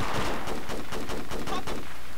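Sustained automatic gunfire in the video game Project Reality during an area attack, with a dense, evenly spaced rattle of shots at close range.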